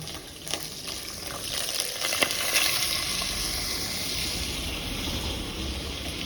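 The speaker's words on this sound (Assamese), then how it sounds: "এতিয়া ইয়াতে আমি চিকেনখিনি দি দিম ধুনীয়াকৈ।" Chicken pieces dropped into hot oil with onion and garlic paste, giving a steady close sizzle and crackle with a few clinks and stirring knocks early on, continuous and fairly loud throughout.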